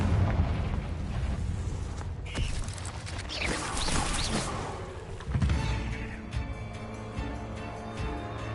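A Confringo blasting spell explodes inside a cave in the Hogwarts Legacy video game, a loud rumbling burst with crackling debris and shifting mechanical clatter that rolls on for several seconds before settling.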